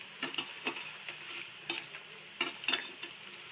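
Cauliflower 65 pieces deep-frying in oil, a soft steady sizzle broken by several sharp scraping stirs and clinks near at hand.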